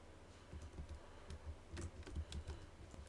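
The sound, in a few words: typing on a computer keyboard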